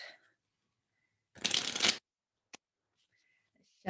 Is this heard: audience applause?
no